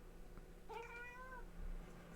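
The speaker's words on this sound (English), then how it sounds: "It's a cat." A cat gives a single drawn-out meow, faint and distant, heard from among forest trees against a quiet low hum.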